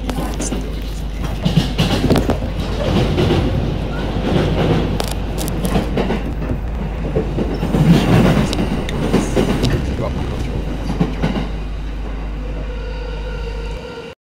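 Train running on the line into Tokyo Station, steady rail rumble and clickety-clack of wheels on track, with occasional squeals, close and continuous under a person talking, ending in a hiss.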